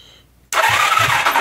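A 1982 Honda CM450 motorcycle engine catches after its wiring is hooked up, a sudden loud start bursting in after a brief quiet moment and running rough and close.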